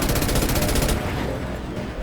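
Gunfire in the video game Mass Effect 2, a rapid stuttering burst of shots for about a second that then gives way to a dense, loud game backdrop.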